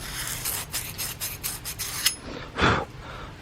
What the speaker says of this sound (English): we're gonna sand that up with 80 grit until it's shiny again